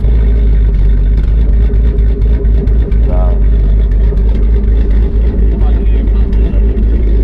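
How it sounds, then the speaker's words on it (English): A 2024 S650 Mustang GT with a Ghost Cam and burble tune rumbles loudly and steadily close by, with engine noise filling the whole stretch and occasional rougher pulses. "people always rev the Ghost Cams"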